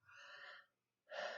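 A person's yawn, heard late at night while getting ready for bed: a long, breathy drawn-out exhale, a short pause, then a second louder yawning breath starting, close and with no talk.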